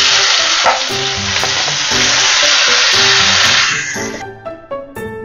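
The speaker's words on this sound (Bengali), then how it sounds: "এবারে আমি আনারসটা দিয়ে দিচ্ছি।" Pineapple pieces drop into hot spiced oil for a Bengali chutney and sizzle loudly and steadily, with spoon scrapes and stirring clatter over the hiss before it settles and quiets near the end.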